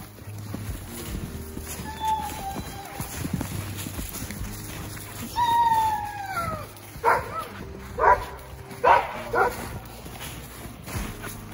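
Sled dogs bark in a handful of sharp, spaced bursts near a power line trail, following quieter outdoor background with faint yips and shuffling.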